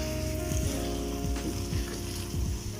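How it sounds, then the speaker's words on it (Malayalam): Chicken coated in masala sizzles in a pan as it is stirred, a steady hissing fry sound beneath sustained background music. "മസാലയുമായി ചിക്കൻ നന്നായി ഇളക്കി അത് എല്ലാ സ്ഥലത്തും നന്നായിട്ട് പിടിക്കുന്ന വരെ നന്നായിട്ടൊന്ന് ഇളക്കി കൊടുക്കണം."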